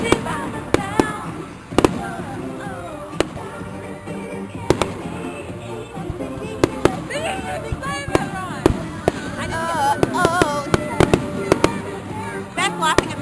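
Fireworks go off through the night at a summer 2009 outing, with repeated sharp reports and crackling bursts, thickening toward the end, while people talk and call out close by.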